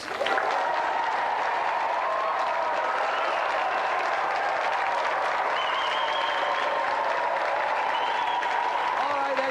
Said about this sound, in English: Round of applause for our 3 challengers.